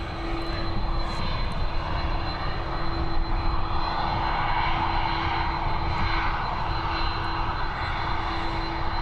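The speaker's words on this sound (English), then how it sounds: "She's heading over to Chicago, this Airbus A330, again operated by Aer Lingus" Aer Lingus Airbus A330 departing Dublin Airport for Chicago, its engines a loud, steady roar that holds without a break, with a sustained tonal whine running through the broadband rumble.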